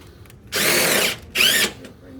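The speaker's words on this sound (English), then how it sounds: "You could use a screw gun. Don't over tighten it." A screw gun drives a screw into a silicon edge display frame in two bursts, the first about half a second long and the second shorter, each a loud, close whirring drill sound with brief quiet between.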